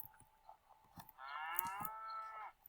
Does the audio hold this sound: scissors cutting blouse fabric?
no